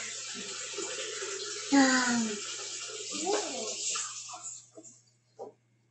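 A kitchen tap runs water into a bowl for challah dough, a steady splashing stream under nearby talk and a voice, then it shuts off near the end.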